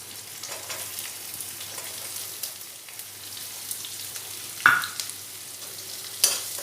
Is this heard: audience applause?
no